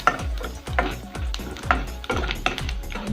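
Cashews, almonds and raisins roasting in a pan for banana payasam, a steady soft sizzle broken by repeated rhythmic stirring scrapes and low knocks of a spoon against the pan, close and without talk.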